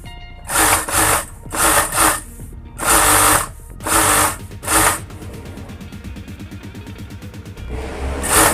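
A sewing machine stitches a shirt's button placket in several short, loud whirring bursts separated by pauses, then runs in a longer, steadier stretch of rapid stitching.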